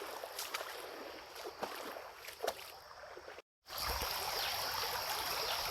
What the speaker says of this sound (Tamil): அப்படி நல்லபடியாக போயிட்டுருக்கு தண்ணீர்